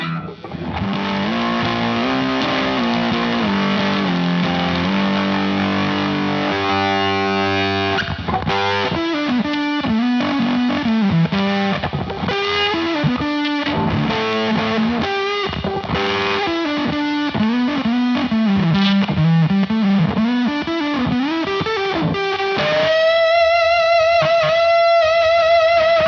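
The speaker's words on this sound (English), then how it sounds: "let's just crank the fuzz. This thing does have a ton of fuzz available" Electric guitar played through a Fuzz Face–style fuzz pedal, either a Chasetone Fuzz Fella or King Tone MiniFuzz, cranked to full fuzz: thick saturated chords and sustained riffs ring out loud and continuous with no talking.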